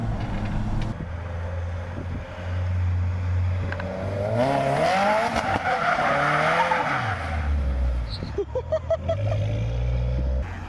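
A Subaru WRX with new headers and wheels slides through successive turns, tires squealing loudly in long wavering bursts over a steady engine drone, with a sharp rapid rattle near the end.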